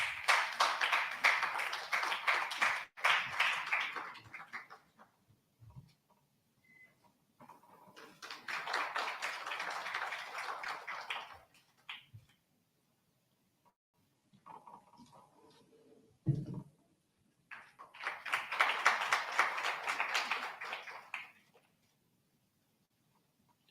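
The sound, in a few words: audience applause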